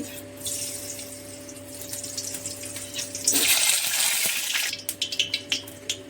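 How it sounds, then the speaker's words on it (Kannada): Cooking oil goes into a pan for palak chicken keema: a low background hum, then a short, bright pouring rush of about a second and a half, followed by a few light clinks. "ಫಸ್ಟು ಎಣ್ಣೆ ಹಾಕ್ತೀನಿ"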